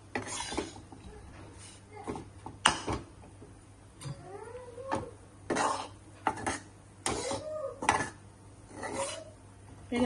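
A spoon scrapes and clinks against a pan while roasting besan powder for bendakaya senagapindi, giving irregular short strokes and scratches at a quiet level, with faint chirping noises in the background.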